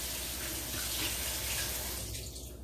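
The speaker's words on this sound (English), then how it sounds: "I rinse this off quickly with cold water" Cold water runs from a kitchen tap in a steady, hissing stream while something is rinsed under it, loud and close, then thins slightly toward the end.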